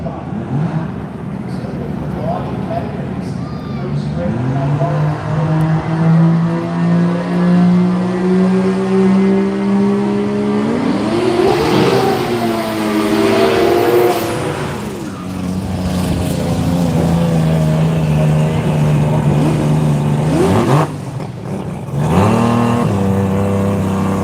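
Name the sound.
rotary engine race car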